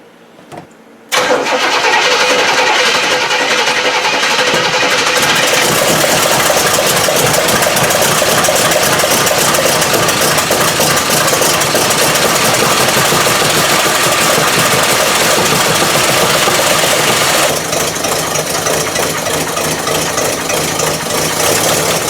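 A 1968 Cadillac engine after engine work cranks and catches abruptly, then settles into a loud, steady, close idle that continues for about twenty seconds.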